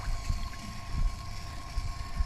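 An Oase Mud Drain 30000 pump runs outdoors at a pond, giving a steady low hum and a faint whine with soft, irregular low thumps and wind noise.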